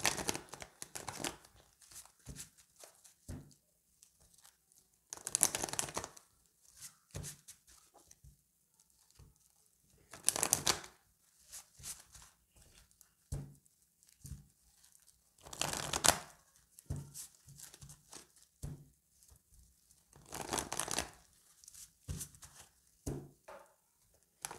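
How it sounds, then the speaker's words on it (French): A large deck of tarot cards is cut in two and shuffled, making bursts of crisp card riffling and rustling at regular intervals with quiet handling sounds in between. "je vais le couper en deux parce que du coup, j'ai beaucoup de cartes là."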